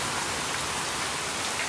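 Heavy rain pours down in a dense, unbroken hiss, close and steady throughout.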